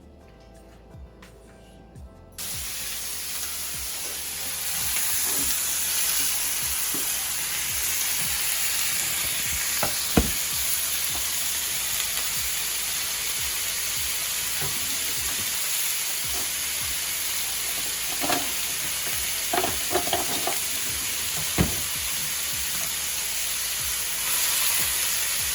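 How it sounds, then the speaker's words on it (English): Ground beef browning in a pan sizzles and fries steadily for the whole stretch, a dense continuous hiss with a few brief clinks and stirring scrapes scattered through it, close and fairly loud. "So what I'm gonna do is brown the ground beef."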